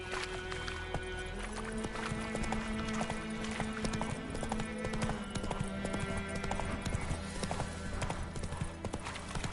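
Roach, the horse in the video game Witcher 3 on PS5, trots with a steady, close clip-clop of hooves over a dense game soundscape with sustained musical tones and ambient noise.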